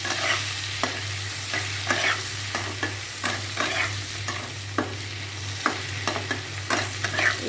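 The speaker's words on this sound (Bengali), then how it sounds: "এখন পটলগুলো ভাজি করে রাখবো।" Pointed gourd (potol) fries in a pan with a steady close sizzle, punctuated by repeated sharp scrapes and clicks of a utensil stirring every second or so.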